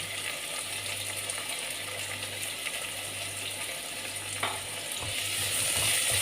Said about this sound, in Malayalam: അത് ചെറുതായിട്ട് സോഫ്റ്റ് ആയിട്ട് വരുന്നവരെ നമുക്കിതൊന്ന് വഴറ്റി കൊടുക്കാം